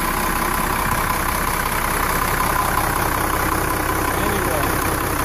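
A 1993 Gulfstream Friendship motorhome engine idles steadily and loudly at close range, a constant low rumble that stays even from start to finish.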